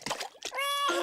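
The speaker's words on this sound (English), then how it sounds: "But you don't need to splash quite so much." Cartoon George Pig splashes in swimming-pool water: a couple of short, bright splashy bursts, then a sustained tonal, voice-like sound.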